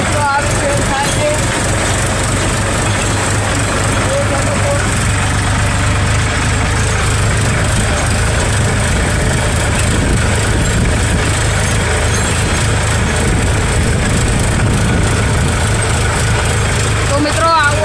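A new farm tractor's engine runs steadily throughout, a loud continuous low rumble with a constant drone and no breaks, while someone talks over it.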